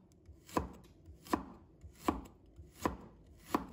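A knife chops ginger on a cutting board in five slow, evenly spaced strokes, each a crisp, close knock with quiet pauses between.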